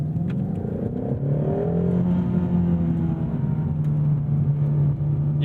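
A 2018 Ford Mustang Shelby GT350R engine in normal mode gives a steady, loud droning growl that climbs slightly in pitch and holds, close and continuous, with no voices.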